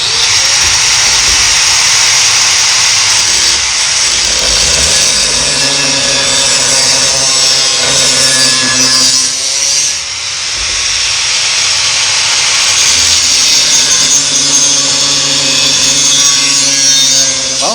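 A power tool cuts through a metal tube of a bicycle frame while building a freak bike, giving a loud, steady, harsh hiss that runs unbroken for the whole stretch with one brief dip midway.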